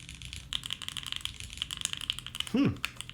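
Quick, soft typing runs steadily on a mechanical keyboard with lightly lubed switches, the keystrokes close and muffled, with a brief low voiced sound near the end.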